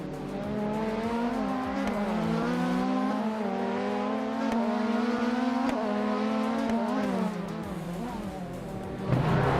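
Race cars launching off the grid at the Highlands Short Track in a racing video game, the pole car a 2008 Mercedes C200; steady loud engine drone climbing in pitch through gear changes, with a sharp burst at the end.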